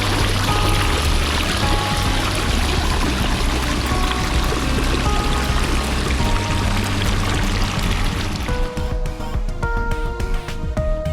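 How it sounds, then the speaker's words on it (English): Backyard waterfall spilling into a swimming pool, a steady, loud, full-bodied pour of splashing water that runs without a break throughout. "Waterfall action down on this far side"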